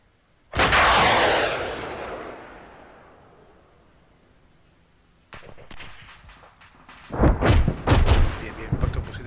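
Gunfire aimed at an armored vehicle in the military video game Arma 3: one loud, close blast that rolls off into a long fading boom, then after a quiet stretch, further clustered heavy bursts.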